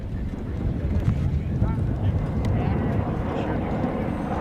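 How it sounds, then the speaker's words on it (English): Wind buffets the microphone in low, uneven gusts over sand dunes on a film set, a constant rumbling roar with faint background sounds underneath. "A little windy today."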